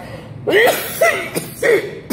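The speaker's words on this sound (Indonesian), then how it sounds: "aduh, luar biasa batuk ini. Mengganggu sekali ceramah ilmiah saya ini." Three harsh, close coughs in quick succession, each short and raspy, with a brief pause between them.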